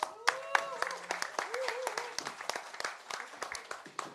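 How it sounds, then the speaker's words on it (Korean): Scattered clapping from a seated audience at a Korean political meeting on THAAD, uneven and patchy rather than a full ovation, under someone speaking over it. "저분들에게 여러분이 박수를 한번 쳐주십시오."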